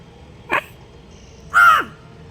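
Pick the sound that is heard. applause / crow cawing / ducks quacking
crow cawing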